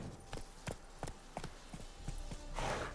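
Roach the horse trots in The Witcher 3, hooves clip-clopping in a steady, evenly spaced rhythm of about eight beats, close and clear, with a brief rising whoosh near the end.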